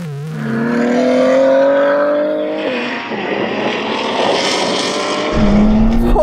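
Lamborghini race car accelerating hard in a drag race, a loud engine roar climbing in pitch through the gears with a sharp shift, then a rougher, noisier blast, closing on a renewed rising note.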